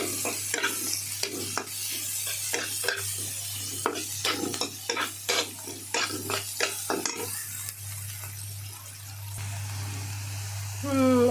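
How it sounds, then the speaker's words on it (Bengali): Chilies and onion frying in a pan for an egg and eggplant dish: a steady low hum sits under repeated sharp scrapes and clinks of a spatula against the pan, with a soft sizzle throughout and talk in places. "এটা একটু এখন ভাজা হোক"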